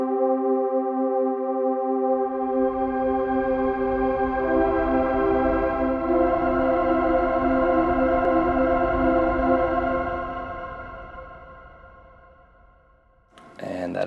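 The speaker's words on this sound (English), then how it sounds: "That is how you create a Shimmer Reverb using only audio unit effects in iOS." A shimmer reverb made only with iOS Audio Unit effects rings out as sustained, layered tones with bright octave-up harmonics that swell, then decay into a fading wash before a short new attack at the end.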